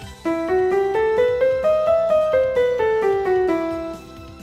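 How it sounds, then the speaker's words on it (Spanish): A bright, sustained synth scale on the harmonic minor rises note by note then falls back down, each tone distinct and evenly paced, with no talking. "uno por la escala menor armónica suena así"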